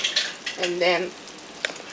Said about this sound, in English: Put it in the boiling water, in this liquid there,